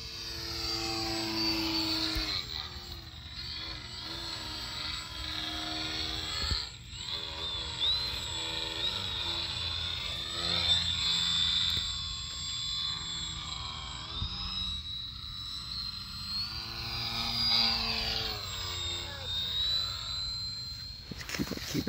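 A radio-controlled 3D aerobatic plane's electric motor during a torque roll: a continuous, fairly loud high whine that wavers in pitch as the plane hangs and spins, heard outdoors for about twenty seconds without clear talk.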